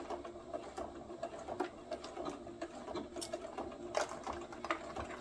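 A domestic sewing machine runs a short reverse back stitch on a fabric neck snood, a steady soft mechanical whir with faint ticking, close by and fairly quiet, with no talking.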